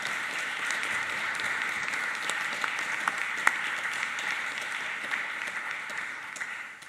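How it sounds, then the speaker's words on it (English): An audience at an MRCPI college membership ceremony gives a steady round of applause for new members, dense continuous clapping that fades out near the end. "So we'll have a round of applause for all our new members."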